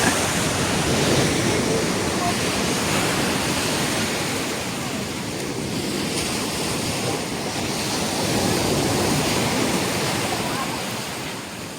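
Sea waves roll onto the beach at Chornomorsk in September, a broad, continuous surf roar that swells and eases gently with no voices over it.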